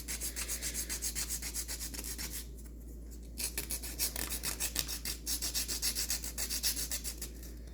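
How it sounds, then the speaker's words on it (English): Sandpaper rubbing a model rocket part in steady back-and-forth strokes, close and fairly quiet, with a brief pause partway through before the rhythmic scratching resumes. "The sandpaper should do the work for you."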